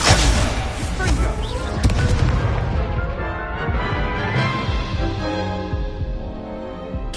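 Confringo blast spell in the video game Hogwarts Legacy, a loud booming burst at the start that rolls and rumbles away over several seconds.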